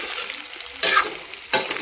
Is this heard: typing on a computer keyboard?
no